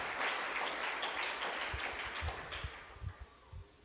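A church congregation claps during a worship service, a dense wash of applause that gradually thins and fades, leaving a few scattered claps and soft thumps at the end.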